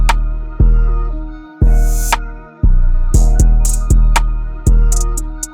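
Trap drum beat programmed in FL Studio with booming 808 bass hits and sharp rim shots, hi-hats cut out, playing loud in a steady repeating rhythm with no talking.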